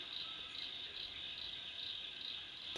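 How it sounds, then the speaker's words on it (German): Crickets chirp at night in the fishing game Fishing Planet, a dense, steady high-pitched trill that holds continuously at a faint level with no talk. "Also ich höre da auch noch eine Grille durch."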